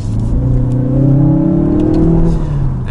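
DS 7 Crossback in sport mode revving on a downshift, a steady loud engine drone rising and falling in pitch, heard from inside the car without talk.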